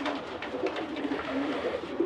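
Soft, low pigeon cooing, a steady murmuring coo close by with no other sounds.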